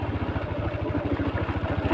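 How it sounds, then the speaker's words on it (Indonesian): A Yamaha Jupiter MX motorcycle engine, freshly overhauled, runs steadily up close with a rapid, even low putter and a constant mechanical rattle, with no talk. "Kita mau test drive kali ini dengan Yamaha Jupiter MX."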